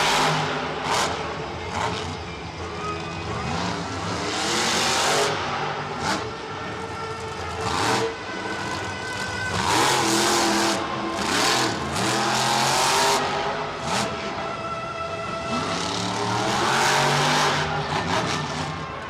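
Monster truck engines revving loudly in a stadium arena at a 2013 Monster Jam event, with repeated surging roars, tire noise and the steady din of a big crowd throughout.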